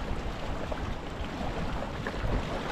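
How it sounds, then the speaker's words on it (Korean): Ocean waves wash along a seaside walk on Zakynthos, Greece, heard as a steady, close wash of surf mixed with wind, with no pauses and no one talking. "파도 소리."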